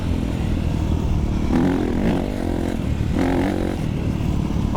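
A 2025 Honda CRF250R Works Edition dirt bike rides single track on a cold day, its engine loud and close throughout with steady drone and rising revs, plus some clatter and scraping.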